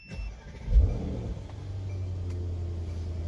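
A Mercedes E63s engine starting: a brief starter crank and a sharp rev that flares up loudly, then settles into a low, steady idle rumble, close and alone without talk.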